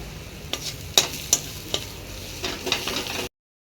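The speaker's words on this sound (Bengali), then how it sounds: "দিয়ে সবটা মশলা এখন আমি একসাথে কষে নেব।" Ground spices and slit green chillies fry in oil in a pan under a soft continuous sizzle, punctuated by several crisp spatula knocks and scrapes, before cutting off abruptly.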